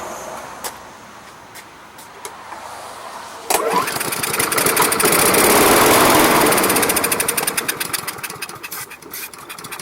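A lawn mower engine is pulled to start after a few faint clicks, catching with a loud rough roar that swells, then sputters and fades into uneven chugging as it struggles to keep running.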